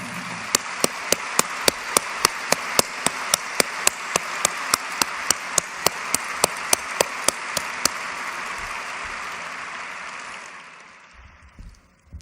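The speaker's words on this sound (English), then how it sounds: "I'd love to have you give them a real well-deserved round of applause." A large audience at the Berkshire Hathaway annual shareholders meeting applauding, a broad wash of clapping punctuated by sharp, evenly spaced rhythmic claps that fade out after about ten seconds.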